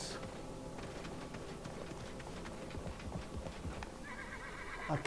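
A horse in the video game Realm Royale whinnies over a steady bed of clip-clopping hooves and background rumble, the neigh rising near the end.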